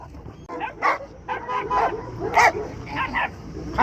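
A Laika puppy at a busy animal market gives a run of sharp, high yips and small barks in irregular bursts, close by, with murmuring voices and market noise underneath.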